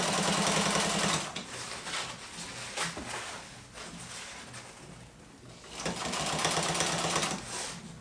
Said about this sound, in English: So in this case, I'm going to sew it together wrong sides together.